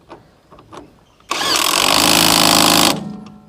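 A JPT 21V cordless impact wrench tightens a nut, starting abruptly with a loud, steady buzzing hammer rattle that holds for about a second and a half, then cuts off. Faint handling noises come before and after.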